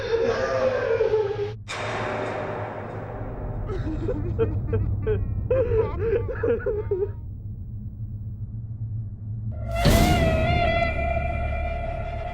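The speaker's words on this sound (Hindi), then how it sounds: "ये क्या, किसी के रोने की आवाज?" Someone cries inside a bungalow in a dramatized scene, with faint wavering whimpers and moans under a low rumbling background and a sudden louder wail near the end.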